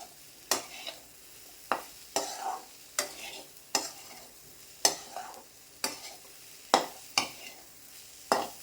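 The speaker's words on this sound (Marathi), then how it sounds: "एक दोन तीन मिनटं मोठ्या गॅसवर परतायचा म्हणजे तो कच्चा वास येत नाही शेंगदाण्याच्या कुटाचा" Crushed peanut powder being stir-fried on a high flame, with regular sharp scraping strokes of a spatula about once a second over a faint dry sizzle, close up and without speech.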